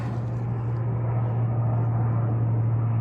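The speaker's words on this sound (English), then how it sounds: "That might be a military plane." A military plane flies overhead above a forested mountain trail, a steady low droning rumble that holds evenly throughout without breaks.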